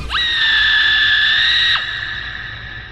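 A woman's loud, sustained high-pitched scream lasting over a second, close and piercing, then fading to quiet room noise.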